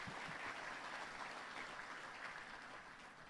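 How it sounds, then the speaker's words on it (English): Sustained audience applause at a banking hall of fame gala, dense and steady clapping from a large room that holds for the full stretch and fades slightly toward the end, with no voices over it. "How about a round of applause for them"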